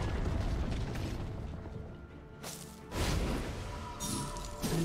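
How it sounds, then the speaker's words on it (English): A League of Legends turret is destroyed in a crashing explosion, with a rumbling game soundscape carrying several sharp bursts of debris and impact, the biggest blasts landing in the second half. "Blue team's turret has been destroyed."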